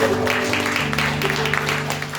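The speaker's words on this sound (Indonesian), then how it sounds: "Berikan tepuk tangan yang meriah" A church congregation at a Christmas service claps loudly and continuously, a dense wash of applause under a droning background tone.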